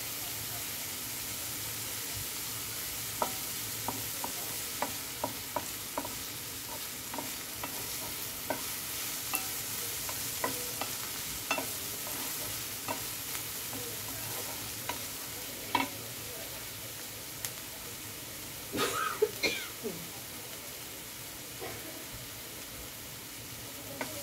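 Onion sautés on a low gas flame for methi bhaji, with a soft, steady sizzle broken by light, sparse taps and scrapes of a spoon stirring in the pan, quiet and close.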